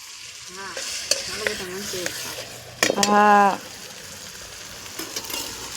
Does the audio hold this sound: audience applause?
no